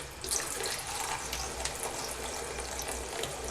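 Running tap water pours steadily over the leaves of a potted African violet, a continuous close splashing hiss with small spattering variations and no voices.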